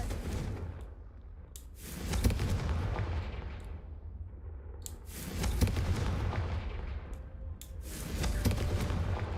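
In Hogwarts Legacy, three Confringo fire spells are cast one after another, each a loud booming blast with a crackling burst that trails off. The blasts come at regular intervals, with no talking over them.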